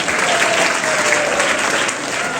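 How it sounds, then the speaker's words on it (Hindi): Students clap loudly for their teachers and principals at a school gathering, a dense, even burst of crowd applause filling the whole moment. "इनके लिए जोरदार ताली बजाएंगे।"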